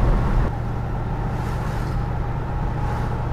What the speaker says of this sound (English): A ride in the wonderful 73 Marquis Brougham.